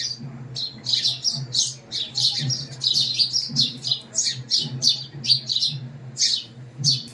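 Sparrows chirp in quick, overlapping bursts close by, a busy run of bright tweets that keeps going with hardly a pause across the whole stretch.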